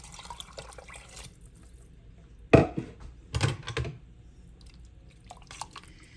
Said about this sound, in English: I'm going to go ahead and add 4 cups of hot water to it as well.